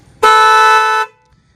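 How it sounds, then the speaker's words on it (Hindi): A Minda car horn on a Zblack Accent car gives one loud, steady honk lasting about a second, close up and sounding alone. "एक बार बजा के दिखाना भाई कैसी साउंड आती है इनकी हॉर्न की"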